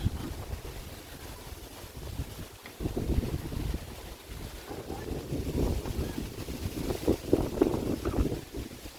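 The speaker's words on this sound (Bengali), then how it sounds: "প্রচন্ড বাতাস।" Strong, warm gusts before rain rumble and buffet the microphone in uneven surges that swell louder toward the end, with no voices over the low roar.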